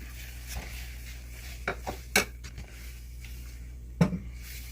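Metal spoon scraping and clinking against a pot while stirring apple pie filling with water and sugar, a few sharp knocks and scrapes standing out over a quiet hum.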